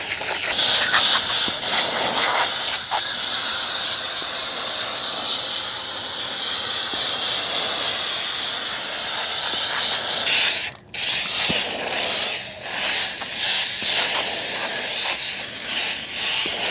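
Heavy-duty foaming AC condenser coil cleaner sprays from an aerosol can in a loud, continuous hiss lasting the whole stretch, broken by one brief pause near the end before the spray resumes in short bursts.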